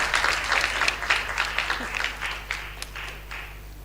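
A church congregation applauds at a vacation Bible school closing service, a dense burst of clapping over a steady low electrical hum, gradually thinning toward the end.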